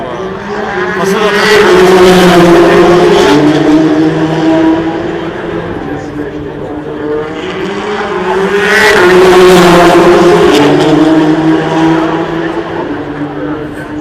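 Race cars at the 2015 Le Mans 24 Hours start, among them the number 70 Porsche, roar past loudly in two big engine swells, rising and falling with shifting pitch, while a commentator talks.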